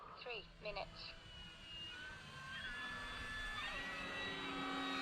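A radio-controlled FMS P-40B model warplane with gear and landing flaps down passes low and slow, its electric motor whine rising and sweeping in pitch as it nears, after a few brief bird-like chirps at the start.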